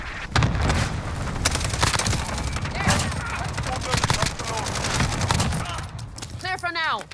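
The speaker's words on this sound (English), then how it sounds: "Enemy at the courtyard. Cluster strike incoming." Cluster strike explosions and dense gunfire in Call of Duty on the Shoothouse map, Hardpoint mode, with rapid overlapping shots and booms running continuously at close range, game voice callouts briefly heard near the end.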